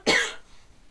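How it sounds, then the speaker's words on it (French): A single sharp, loud human cough, close to the microphone, bursting out and trailing off within half a second, followed by quiet. "je dois vraiment tousser très très fort"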